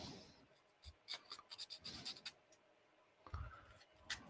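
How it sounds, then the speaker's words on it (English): Coarse sandpaper rubbed by hand over a workpiece, a series of short raspy scratching strokes in an irregular rhythm, close but fairly quiet with no talking. "Now this is coarse sandpaper"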